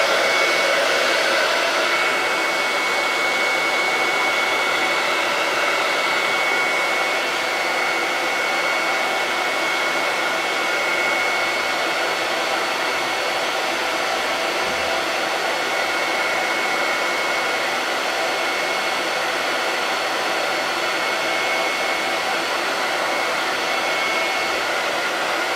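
A hair dryer blows steadily and loudly for a long stretch, drying a chalkboard stencil board, its constant rushing whir unbroken and close up.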